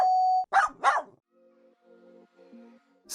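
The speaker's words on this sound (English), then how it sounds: "He walks towards the house and rings the doorbell." A doorbell at a house gives one short steady tone, followed right away by two loud, close dog barks, with faint low murmuring afterward.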